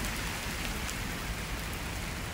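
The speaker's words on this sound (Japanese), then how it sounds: "すごい雨になってきました。" Heavy rain pours steadily on a morning outdoors, a dense, continuous hiss of drops striking surfaces with no pauses and no talk.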